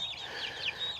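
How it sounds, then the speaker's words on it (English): White Leghorn hens and a rooster cluck and call close by on a farm, a few short bird vocalizations rising over quiet background with no speech. "But I got my white leghorns all, so far so good."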